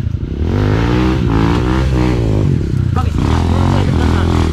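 A dirt bike engine revs loud and close on an enduro trail in Binalonan, Pangasinan, Philippines, its throaty roar rising and falling with throttle, accompanied by clattering and occasional scraping.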